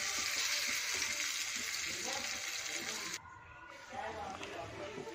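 Sliced long onions frying briefly in a pan for kadhi, a loud steady sizzle with stirring scrapes close by, dipping for a moment before the hiss resumes.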